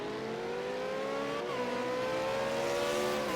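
V8 Supercars in a racing video game at Bathurst's Mount Panorama circuit: a close engine drones and revs steadily with rising and falling pitch, and another car's engine joins briefly.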